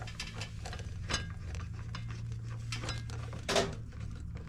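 Metal clicks and ratcheting from a wrench tightening the rear brake bolts on a 2022 Harley-Davidson Street Bob 114, with scattered light taps over a steady low hum and one louder clank near the end.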